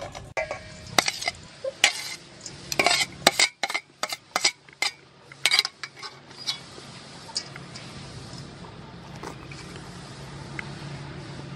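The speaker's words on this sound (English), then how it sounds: "It's time to mix everything together." Sea snail meat and mango are tossed together in a bowl. Irregular clinks, knocks and creaky scrapes from the utensils come in quick bursts, then settle into a quieter steady hiss.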